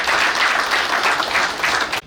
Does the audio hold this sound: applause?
yes